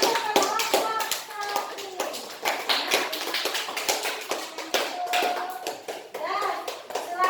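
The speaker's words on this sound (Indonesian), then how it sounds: "Kasih tepuk tangan dulu kelompok" Classroom applause for a student group after their presentation: a steady patter of hand claps and taps with children's voices mixed in throughout.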